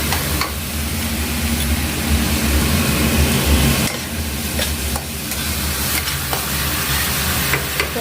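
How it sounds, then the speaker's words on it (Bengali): Cauliflower cooks in a pan on a gas stove, giving a loud, continuous frying hiss with stirring scrapes and a low background hum throughout. "এখানে ফুলকপি রান্না হচ্ছে"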